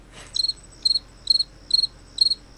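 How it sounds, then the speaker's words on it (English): A comic crickets-chirping sound effect: five crisp, evenly spaced trills ring out close and clear over quiet background. "Is that my sign off music? Crickets."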